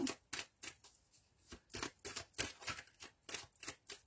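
Tarot cards are handled and shuffled close by, producing a quiet run of rapid, rhythmic riffling and slapping with brief gaps between bursts.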